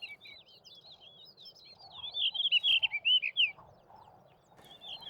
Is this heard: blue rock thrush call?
yes